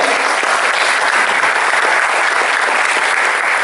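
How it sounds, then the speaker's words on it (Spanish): An audience at a CPA marketing event greets the featured expert with loud, sustained applause, a thick, even roar of clapping with no break. "quiero que lo reciban con fuerte aplauso"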